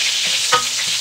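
Garlic and onion sizzle in hot oil in a pan, a steady close frying hiss with soft stirring scrapes and one brief louder clatter near the middle.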